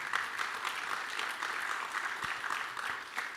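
Audience applause at an evening dinner event, steady dense clapping from a crowd holding at an even level throughout.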